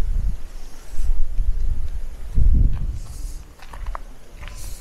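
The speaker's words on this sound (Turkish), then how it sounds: "Bir de çok rüzgarlı. Felaket rüzgarlı." Gusts of strong wind at a campsite entrance buffet the microphone in low rumbling bursts, with faint rustling and a few light steps in between.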